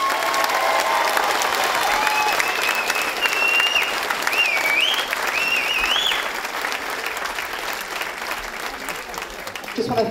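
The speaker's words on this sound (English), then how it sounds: "So these guys, I think they need one more round of applause." A crowd in a theatre applauds at a dance show, a loud, sustained wash of clapping with scattered cheers and whistles over about ten seconds that thins toward the end.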